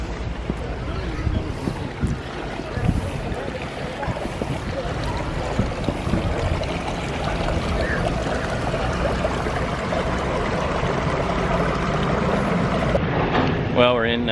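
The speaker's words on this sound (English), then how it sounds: "You're gonna see a little waterfall area here." A small waterfall at a brewery grounds in New Glarus, a steady broadband rush of falling water heard continuously over wind noise, with a brief clatter near the end.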